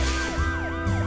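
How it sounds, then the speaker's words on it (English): Wailing emergency sirens in the video game Deus Machina Demonbane, several rising and falling tones overlapping over a steady low hum, loud and continuous for the whole moment. "But there sure are a lot of sirens."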